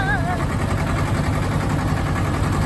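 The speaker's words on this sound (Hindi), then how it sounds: "मैं ट्रैक्टर निकाल दिया" A tractor engine runs with a steady, loud, rough rumble on a ride, and voices are heard over it.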